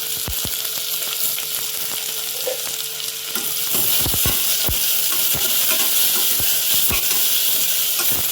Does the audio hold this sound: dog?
no